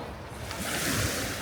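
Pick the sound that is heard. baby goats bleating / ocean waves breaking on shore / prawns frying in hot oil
ocean waves breaking on shore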